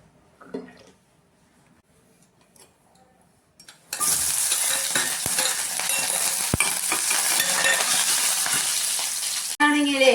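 Seasoning dropped into hot oil to temper a ripe mango curry bursts into a loud, sudden sizzle after a few quiet seconds with faint knocks, then crackles steadily up close with sharp spatters and a brief stirring clatter.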